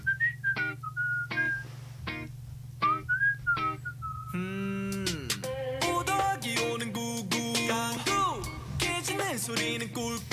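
Whistling carries the melody of a light reggae-style pop song, a series of clear whistled phrases that give way to fuller instrumental backing, moderately quiet and with no talking over it.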